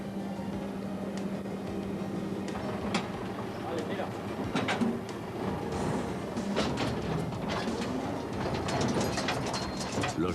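A screw conveyor turns in a winery hopper, moving grapes along. It gives a continuous mechanical grinding rumble, steady throughout, with frequent rattling clicks and knocks.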